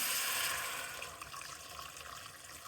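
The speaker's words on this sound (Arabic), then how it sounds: "راح نجيب المية اللي غليناها مسبقا ونديرها عليها" Pre-boiled water poured over browned lamb in a pot for Palestinian maqluba, a steady close rushing pour that starts loud and gradually eases, heard on its own without talk.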